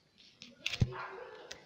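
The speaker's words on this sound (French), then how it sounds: "Je suis désolée si vous entendez le chien aboyer" A dog barks once or twice, short and sharp, against low background household noise, moderately faint and brief.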